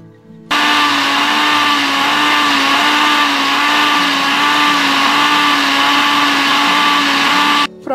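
A blender whirs loudly and steadily for about seven seconds, mixing ground-meat pancake batter with the lid on, starting and stopping abruptly.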